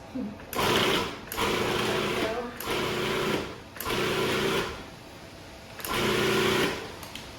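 A food processor pulsing chopped mushrooms in five short whirring bursts separated by brief pauses, loud and close, with a faint voice underneath.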